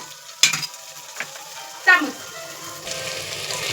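Spices stirred into tomato bath in a pan, with a spoon scraping and clinking against the metal amid a gentle sizzle, a few distinct knocks, close by.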